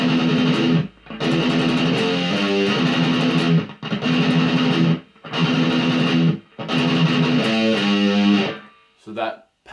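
A heavily distorted electric guitar plays a song's bridge riff slowly, with sustained, buzzy paired notes grouped into separate phrases divided by short silences, close and loud.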